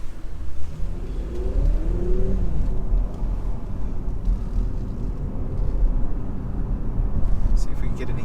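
Low, steady rumble of a 2019 Porsche Macan S engine cruising at about 10 mph, heard from inside the cabin through an open panoramic roof, with road and wind noise and a brief rising engine note early on.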